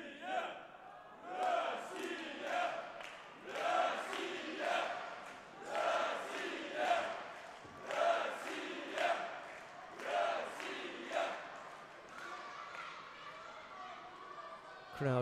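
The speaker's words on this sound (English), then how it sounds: "Crowd getting into it," Spectators at a women's -52kg judo Grand Slam final in Tyumen, Russia, chant and cheer in rhythmic swells throughout, with a commentator talking over the steady crowd noise.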